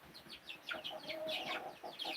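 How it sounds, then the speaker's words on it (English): A rooster among backyard chickens clucks and chirps in short, scattered calls during rain, faint and at a moderate distance. "He's a rooster."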